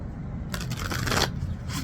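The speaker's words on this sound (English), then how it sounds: "They're telling me to shuffle a little more." Playing cards being shuffled up close, a dense riffling burst lasting under a second against a low background hum, with no talking.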